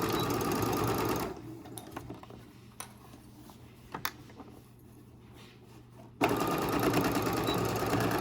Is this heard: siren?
no